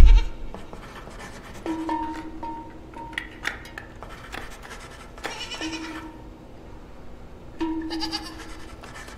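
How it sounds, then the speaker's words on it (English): Goats bleating in the horror video game Video Horror Society, several distinct, wavering bleats spaced a few seconds apart over a steady game ambience with occasional clanks. "Am I sacrificing goats?"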